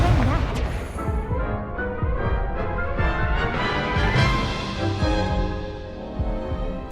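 Spell blasts and explosive impacts from Hogwarts Legacy combat fill the scene, a dense run of loud booms and crashes layered over a continuous game score with no pause.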